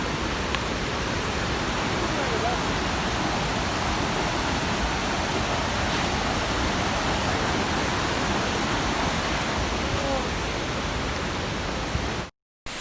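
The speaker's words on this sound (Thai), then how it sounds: "น้ำตกตัดเนียงอยู่ทางมาปักซอง" Tad Yeuang waterfall near Pakxong in Laos roars as a dense, steady rush of falling water. It stays loud and unbroken for about twelve seconds, then cuts off abruptly.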